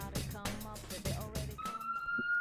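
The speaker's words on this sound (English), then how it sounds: "They better not have these sirens the whole time." Alarm sirens in the video game Persona 4 Golden wail with rapid pulsing over game music, then settle into a steady high electronic tone, loud and continuous.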